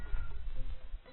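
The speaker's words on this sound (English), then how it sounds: "Why is my cat crying now?" A cat meows once in a drawn-out, plaintive cry, heard faintly and muffled against a dull low background.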